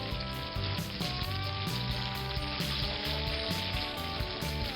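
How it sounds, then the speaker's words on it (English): Chicken frying in hot oil over a medium to medium-high flame, giving a dense, steady sizzle and crackle with faint rhythmic tapping underneath, fairly quiet, with no voices. "this is frying"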